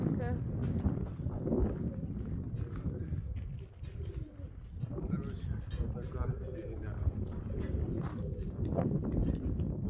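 Pigeons coo softly in a steady, murmuring chorus at an outdoor dovecote, some sitting on eggs, mixed with rustling and low background noise.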